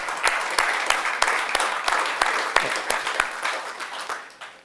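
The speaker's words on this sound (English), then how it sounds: "So a warm applause for the..." Warm applause from a conference audience at a Swiss nuclear innovation forum, a dense steady wash of many hands with sharper individual claps popping through, fading toward the end.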